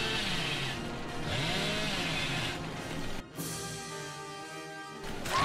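Chainsaw in the horror video game Dead by Daylight revving in loud sustained bursts with rising and falling engine pitch, continuous over game ambience with a brief dropout midway.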